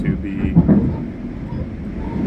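A moving train carriage gives a low, steady rumble as background ambience while a person talks over it throughout.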